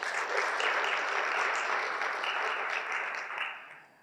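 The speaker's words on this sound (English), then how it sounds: "Let's give a round of applause to our speaker one more time." An audience at an IEEE visualization conference applauds a speaker after a short-paper session: sustained, even clapping from a roomful of people that holds steady and then fades out near the end.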